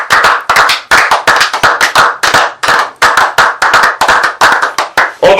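A church congregation claps loudly in a steady, rapid rhythm, many hands striking together in continuous dense bursts with no talk over it, acclaiming the Lord during a prayer service.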